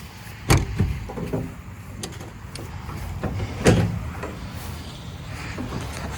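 The back doors of a 1964 Dodge A100 van are worked open and shut, giving several sharp metallic clunks and latch knocks, two of them loudest, over a low background rumble.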